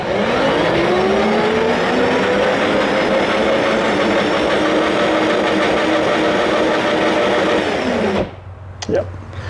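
A vehicle engine in forward gear revs hard and steadily under the gas pedal, a loud sustained drone with a rising whine, then cuts off abruptly near the end, leaving brief faint handling noises.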